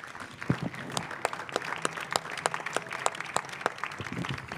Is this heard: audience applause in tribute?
yes